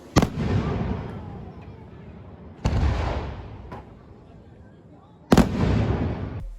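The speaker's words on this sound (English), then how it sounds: "we could hear the echo of the boom of the fireworks" Three deep fireworks booms burst out at intervals, each trailing a long rolling echo across mountains during a Bastille Day celebration, fairly distant but strong.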